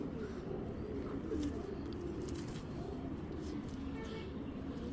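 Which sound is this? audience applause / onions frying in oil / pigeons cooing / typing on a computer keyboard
pigeons cooing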